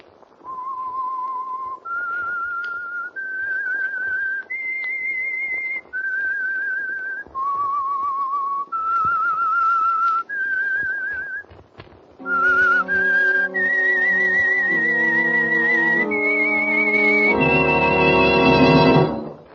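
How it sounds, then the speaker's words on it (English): The whistled opening theme of The Whistler program: a clear melody of steady sustained notes, alone and close, growing louder and fuller toward the end as accompanying tones join in. "That whistle is your signal"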